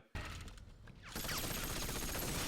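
Gunfire from the Iron Man film, a dense volley of shots that starts abruptly and then swells into a louder, sustained barrage.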